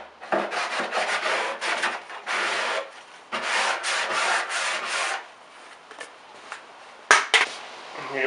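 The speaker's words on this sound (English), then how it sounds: "Do a quick touch up sand, make sure there's nothing in there that's going" Quick touch-up sanding inside a subwoofer box, a close, steady abrasive rubbing in repeated strokes of a second or two each with short pauses between, followed by a few light knocks near the end.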